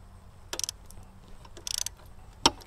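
Ratchet or wrench loosening screws on a Bosch GCM12SD glide miter saw, three short bursts of rapid clicking spaced apart, close but fairly quiet.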